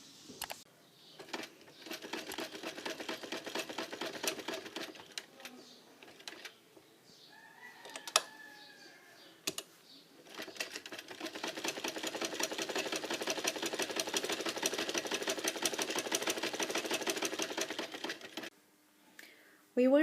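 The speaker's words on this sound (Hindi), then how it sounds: "अब मैं इसके इन चारों किनारों के ऊपर इस तरह से फाइनल सिलाई लगाऊंगी।" A sewing machine stitches the edges of a cloth handkerchief in two long, steady whirring runs separated by a short pause with some handling clatter, heard close and at moderate level.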